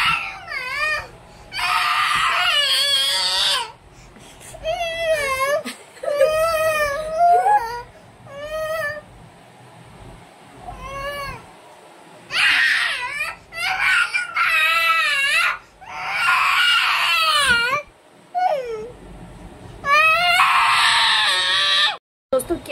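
A frightened child screams and sobs in long, wavering wails, loud and close, broken by short pauses and mixed with other voices talking.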